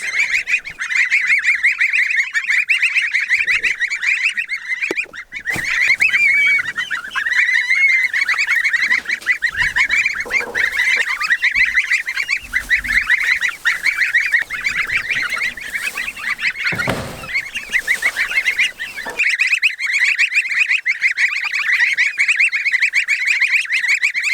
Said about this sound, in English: Oop, chicken hop here, get back in there.